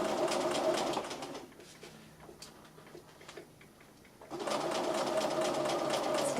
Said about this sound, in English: I'm just going to secure it with a back stitch at this end. And when I get to the bulky bits, I'm just going to go a little bit more gently.